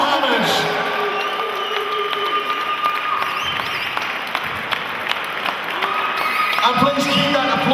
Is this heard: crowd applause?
yes